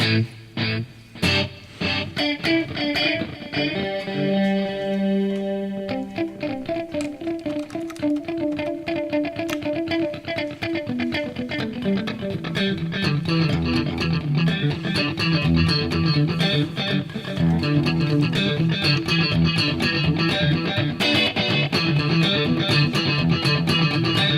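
Electric guitar notes ringing out through a delay effect louder than the original sound, with repeating echoes trailing behind each strum, dense and sustained throughout, played alone at a steady moderate level.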